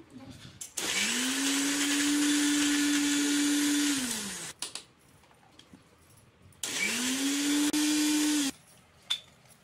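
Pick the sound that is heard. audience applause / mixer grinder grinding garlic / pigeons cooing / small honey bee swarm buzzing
mixer grinder grinding garlic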